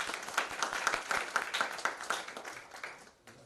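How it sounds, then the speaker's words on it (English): Applause from an audience welcoming guest Shri Lochan Sehra at an International Space Science Olympiad event, a dense patter of clapping that fades out after about three seconds. "Please give a round of applause for Shri Lochan Sehra sir."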